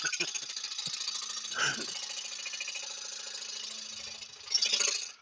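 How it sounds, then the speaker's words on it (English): A motorcycle engine rattles steadily and loudly with a chopper-like clatter, a harsher burst near the start and a louder swell toward the end, heard alone without speech. "That still sounds like a chopper."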